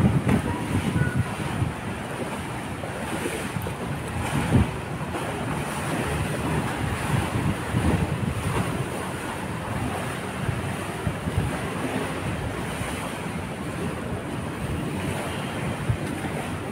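Strong ocean waves crash and surge steadily against an esplanade, a loud continuous roar of surf mixed with gusting wind buffeting the microphone, with no pauses.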